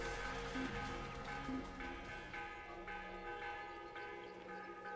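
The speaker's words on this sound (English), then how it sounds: "You can stop banging that bell now." Church bells ring in an Assassin's Creed game, sounding as faint, repeated metallic tolls with lingering hum against a quiet background.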